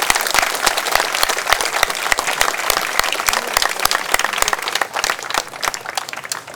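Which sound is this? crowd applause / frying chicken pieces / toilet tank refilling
crowd applause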